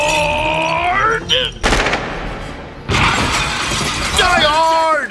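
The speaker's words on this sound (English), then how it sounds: "All that glass has just been broken." Glass shattering under gunfire in the Die Hard action film, bursts of crashing, tinkling shards mixed with rapid gunshots and booms, loud and close, with film dialogue tones between.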